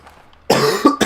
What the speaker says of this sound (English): Wow, I need to get over this cough